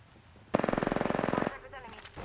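Rapid burst of video game pistol gunfire, about a second of evenly spaced shots fired in quick succession, loud and close, followed by quieter game ambience.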